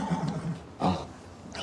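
A filly neighs in a stable setting, two brief whinnying bursts separated by a short pause, moderately close and heard alone without talk.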